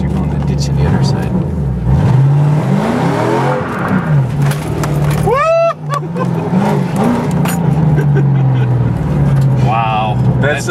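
A Ford Mustang accelerates hard with traction control off, its engine revving loudly and rising in pitch, while people talk and exclaim over it nearby.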